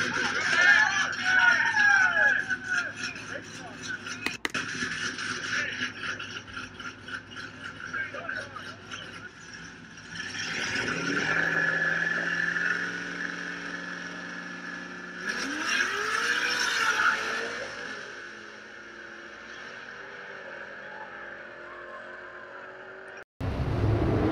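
Street-racing car engines from a Camaro race clip rev and accelerate in rising, sweeping pulls, fairly faint and somewhat distant, while a crowd can be heard shouting in the background.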